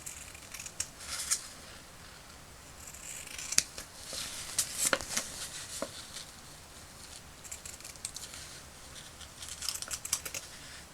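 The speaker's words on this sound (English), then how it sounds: "get my scissors and I'll just cut away" Quiet, scattered snips of scissors cutting fabric for a small toy figure's cape, irregular clicks spread across a soft, hushed background.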